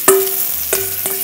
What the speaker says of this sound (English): all I want to do is very quickly saute the onions and the carrots